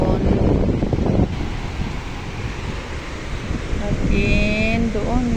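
Rough sea surf at a beach in La Union, a steady loud wash of waves buffeted by wind noise on the microphone, with someone talking over it at the start.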